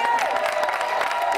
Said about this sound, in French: j'aimerais qu'on applaudisse chaleureusement,